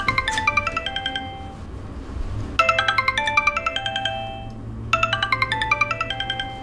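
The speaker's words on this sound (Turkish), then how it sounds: "Anne dur, telefonum çalıyor." A mobile phone plays a melodic ringtone of chiming notes in three repeated phrases, fairly loud and close, over a low background hum with no talk.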